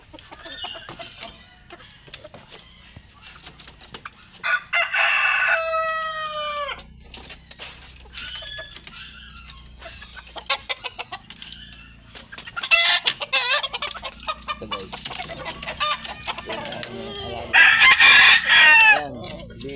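Chickens cluck and squawk repeatedly at close range, with a rooster crowing in loud bursts amid a busy farmyard.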